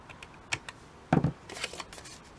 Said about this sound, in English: I'm just going to trim that little bit at the edge